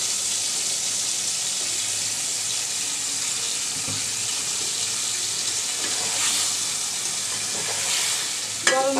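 Rui fish sizzles in hot oil with chili as potatoes and cucumber go into the pan, a steady frying hiss with occasional stirring clinks and scrapes, close and continuous.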